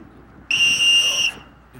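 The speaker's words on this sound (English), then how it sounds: "Change the tone of his whistle." A single sharp, high-pitched dog handler's whistle blast at a retriever field trial, lasting under a second, loud and steady, then quiet.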